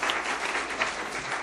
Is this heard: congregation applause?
yes